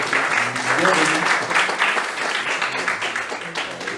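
Members of a church congregation clap together in a steady, even round of applause that continues throughout, with a faint murmur of voices underneath.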